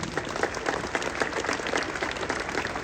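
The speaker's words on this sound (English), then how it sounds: "Let's hear it for Shareef Abdur-Rahim." Steady applause from an audience at an NBA G League team unveiling, a dense wash of many hands clapping at once, with a faint murmur of the crowd underneath.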